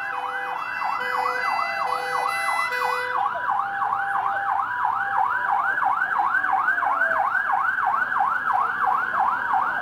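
Wailing ambulance sirens sweep up and down in a steady repeating cycle, loud and continuous, as emergency vehicles arrive at a deadly crash scene; a second siren tone fades out early on.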